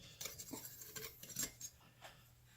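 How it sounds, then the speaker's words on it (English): A whisk clinks quickly and unevenly against a bowl while mixing dry baking ingredients for a strawberry quick bread, close and quiet, with short metallic taps and scrapes. "Just whisk that all together,"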